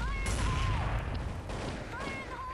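A grenade blast at an enemy's feet in the shooter game Blood Strike, with a burst of gunfire and explosive booms mixed with game effects, heard as short sharp bursts with someone talking over them.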